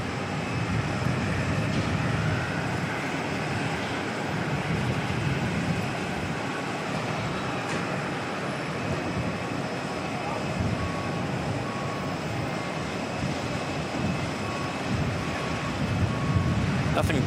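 A Jetstar airliner bound for Wellington departs Auckland Airport, heard as a broad, steady engine roar that stays constant and fairly distant throughout, with no talking.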